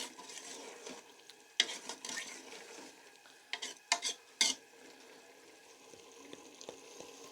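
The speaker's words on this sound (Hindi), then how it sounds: "उस वक्त तक हमने इसको यहाँ पे फ्राई करना है जब तक ये प्याज इसमें बिल्कुल मलाई बन जाएगा" Onions frying in a pan over low-medium heat, a faint steady sizzle with occasional louder scraping stirs of a spoon against the pan, no voices.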